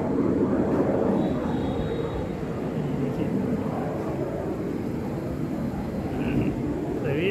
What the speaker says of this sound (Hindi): ये देखिए आसमान में जहाज जा रहा है, थोड़े समय बाद इसकी आवाज़ सुनाई देगी।